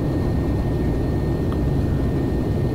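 Steady loud drone of an airplane cabin heard from inside the plane in flight over Texas, a continuous low roar of engine and airflow with no breaks.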